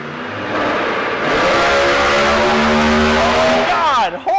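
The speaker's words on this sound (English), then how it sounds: "Our neighbors just started up their new Prius." A car engine starts and revs hard nearby, a loud, sustained roar climbing in pitch, then dropping off abruptly with a quick flourish at the end.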